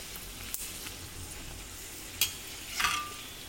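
Puri dough frying in hot oil, a steady soft sizzle and bubbling hiss with a few sharp crackles and spatters standing out, fairly close and quiet with no talking.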